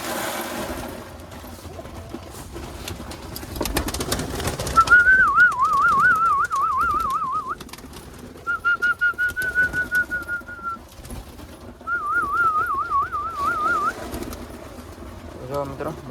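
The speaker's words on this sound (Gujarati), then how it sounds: "બધા કબૂતરા આવી ગયા નીચે" Pigeons at their loft during rainy weather give soft, repeated coos in several bursts close to the microphone, mixed with wavering whistled calls and brief rustling, while someone talks intermittently.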